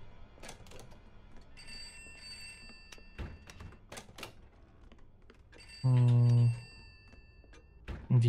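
Telephones in the horror video game Pineview Drive ring in short electronic bursts, one loud ring standing out, mixed with scattered thumps and clicks and a voice talking at times.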